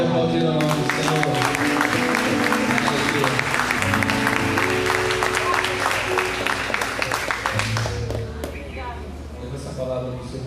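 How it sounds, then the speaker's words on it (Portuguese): Church congregation clapping together during a service, dense steady applause filling the room for several seconds before thinning out, with a voice speaking over it. "Pode aplaudir o nome do Senhor."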